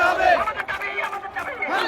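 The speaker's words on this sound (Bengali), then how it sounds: "স্লোগান দিতে থাকেন" Street protesters chant slogans together during a demonstration outside the BTRC building, a dense crowd of raised voices forming a continuous, loud chorus with rising and falling shouts throughout.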